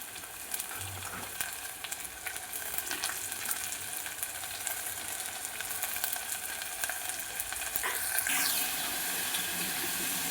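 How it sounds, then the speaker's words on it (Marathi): Chopped spinach tossed into hot oil with browned onion for a home-style Indian dal palak, giving a steady, close sizzle and frying hiss that runs unbroken throughout, with no talking. "पालक चांगला परतून घ्यायचा व्यवस्थित"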